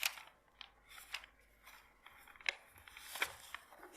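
Sheets of paper rustle and crinkle in quiet, scattered bursts while someone searches through notes, close and soft with no speech.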